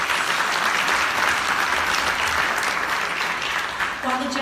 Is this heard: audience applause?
yes